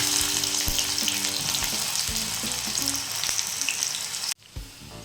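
Onion pieces fry in hot oil in a kadai, a dense, close hissing sizzle with occasional stirring clicks that cuts off abruptly near the end before faintly resuming.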